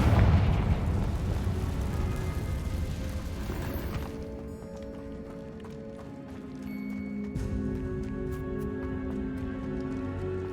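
The Confringo fire spell in the Hogwarts Legacy video game erupts in a loud, rumbling blast that slowly decays, followed by lingering game ambience and soft musical tones.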